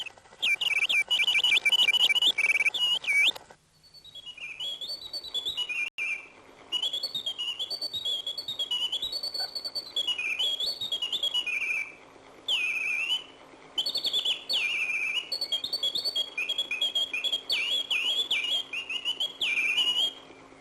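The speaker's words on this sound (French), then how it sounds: "gravant dans leur mémoire mécanique le chant des merles, grives et troglodytes de la forêt jurassienne" A mechanical singing-bird automaton in a clock museum trills and warbles in the style of blackbirds, thrushes and wrens of the Jura forest, with loud, rapid, sweeping whistled phrases broken by brief pauses.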